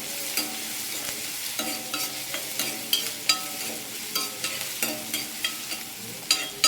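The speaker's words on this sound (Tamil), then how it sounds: "வெங்காயம் நல்லா பொன்னியாக கலரில் வர்ற அளவுக்கு வதக்கி விட்டுக்கலாம்" Sliced onions sauté in a pan while a spatula stirs them, making soft frying sizzle broken by repeated scraping and clinking strokes at an uneven rhythm.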